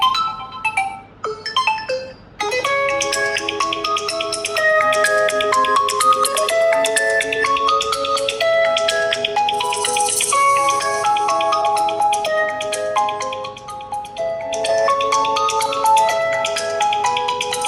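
A melodic ringtone plays loudly from the single bottom-firing speaker of a Realme Note 70 smartphone at 300% volume. A few scattered tones come first, then a continuous bright tune of stepping notes that carries on without pause.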